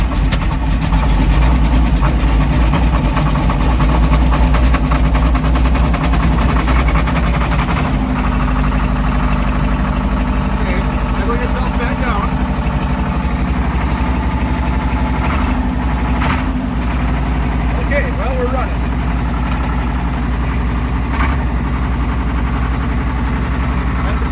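Steady low rumble of an old Case 1070 tractor engine idling on a cold day, running continuously and loud for the whole stretch, with faint voices now and then underneath.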